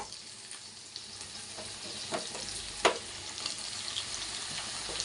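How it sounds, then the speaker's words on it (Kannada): Onions frying in a pan for a bitter gourd masala, a soft continuous sizzle close by with occasional scraping stirs and small clinks, no talking. "ಸ್ವಲ್ಪ ಫ್ರೈ ಮಾಡ್ಕೋಬೇಕು ನೋಡಿ ಈಗೆಲ್ಲ ಸ್ವಲ್ಪ ಬೆಂದಿದೆ ಈರುಳ್ಳಿ"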